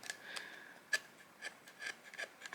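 A skiving knife scrapes along leather that rubs against a plastic mold while a custom case is wet-molded, giving faint, close, irregular rasping strokes with a few sharper scrapes.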